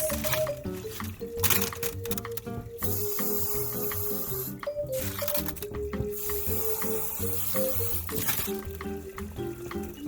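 Tap water runs steadily into a rock tumbler barrel while lepidolite and other tumbled stones are rinsed, with a continuous hiss, splashing and faint clacks of stones nearby.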